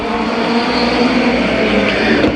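Midget race cars racing at Columbus Motor Speedway during an eight-lap event: a loud, continuous drone of several close engines at full throttle with a steady high buzz.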